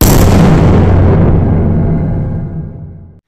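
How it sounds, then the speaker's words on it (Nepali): Gunfire and explosions echo across the hills of Nepal at the start of the Maoist insurgency: one loud, heavy boom rumbles and slowly fades over about three seconds, with no voices. "नेपालका पहाडहरू बन्दुकको आवाजले गुन्जिए"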